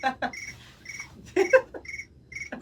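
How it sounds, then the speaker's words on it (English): Cricket chirping sound effect used as a timer, with repeated short bursts of high chirps in a steady rhythm, interleaved with brief voice sounds and rustling. "the reason I put crickets is so whenever it interrupts me"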